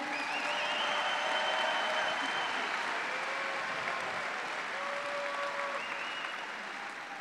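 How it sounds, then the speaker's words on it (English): Steady applause and cheering fill a college basketball arena during senior speeches for Gonzaga women's basketball, a sustained, even roar of clapping with whistles that tapers slightly at the end. "Can I get another round of applause for these guys for handling business tonight?"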